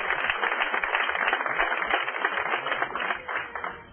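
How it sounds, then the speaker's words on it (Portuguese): A church congregation breaks into applause, a dense, even wash of many hands clapping together, sustained at fairly constant loudness and tapering slightly toward the end. "Dê um aplauso ao Senhor"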